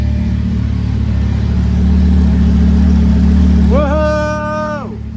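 A Lamborghini Gallardo LP560-4 engine hums loudly at a steady idle in a workshop after clutch and flywheel repair work, then revs up sharply and drops back near the end, with people talking over it.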